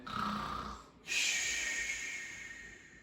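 A person imitates snoring with voice and breath, giving a rough, throaty inhale followed by a long, hissing exhale, close and fairly soft with no other sounds.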